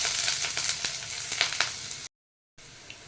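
Onion frying in hot oil in a pan, a steady, loud, close sizzle that cuts out briefly before resuming.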